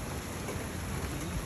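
Steady rain pours down in a July thunderstorm, a dense continuous hiss with no breaks and no thunder cracks standing out, close and fairly loud throughout.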